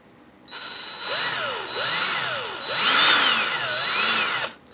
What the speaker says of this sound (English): Put my drill in the clockwise motion or the forward motion.